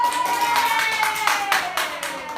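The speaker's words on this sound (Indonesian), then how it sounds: "Boleh tepuk tangan." Children in a classroom clap their hands in a fairly quick, rhythmic run of sharp claps, close and fairly loud, with a faint steady tone in the background.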